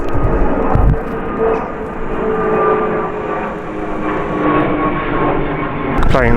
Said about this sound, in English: Plane spotting today. I do like planes.